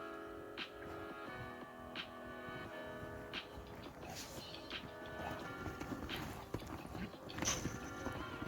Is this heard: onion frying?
no